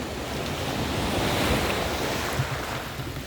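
Strong sea waves at Kalim beach roll in as a continuous, loud, close wash of surf mixed with wind buffeting the microphone, with no voices.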